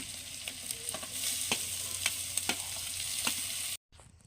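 Water lily stems stirred and frying in hot oil with mustard spice paste and no water, a steady close sizzle broken by scraping stir strokes, cutting off abruptly near the end.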